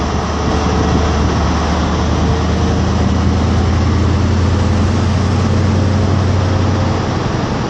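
An HST diesel train pulls out of York station with power car 43251 at the rear, giving a loud, steady engine drone and rumble that holds unbroken throughout.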